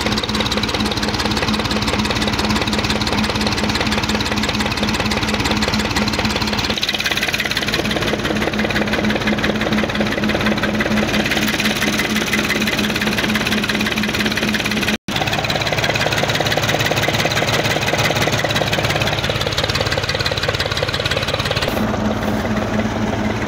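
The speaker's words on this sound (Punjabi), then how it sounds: "MF 135 ਜਿਹੜਾ ਜੀ ਆਪਣਾ ਚੱਲ ਰਿਹਾ ਜੀ। ਬਾਊ ਮਲਕ ਸਾਹਿਬ ਉਹਨਾਂ ਦਾ ਟਰੈਕਟਰ ਆ ਜੀ" A Massey Ferguson MF 135 tractor engine ticks over at slow idle, a steady close diesel chug with a constant low throb that holds for the whole stretch, with a short break near the middle and no talk.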